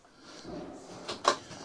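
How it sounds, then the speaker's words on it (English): A cutlery drawer in a new Swift or Auto-Trail motorhome kitchen slides and shuts, a soft rolling movement ending in a short, sharp knock, quiet and close. "Nice little cutlery drawer."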